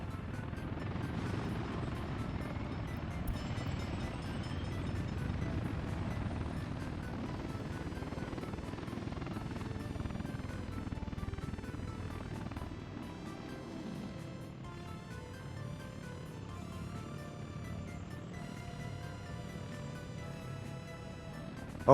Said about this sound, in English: once these components are dropped off, we should see the helicopters spring to life